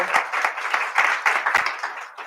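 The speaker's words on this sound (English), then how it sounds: "Can you join me in giving them a round of applause?" Close, lively applause from an audience honoring a community event board, a cluster of hands clapping at a brisk, uneven pace with distinct individual claps standing out.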